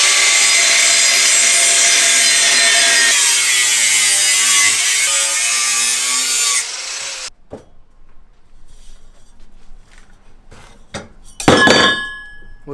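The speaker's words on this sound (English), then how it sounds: "we gotta cut off the part we don't need" An angle grinder cuts through a metal exhaust part on an old Jaguar, a loud, continuous high whine for about seven seconds that then stops, followed by quiet clatter and a sharp metallic clank.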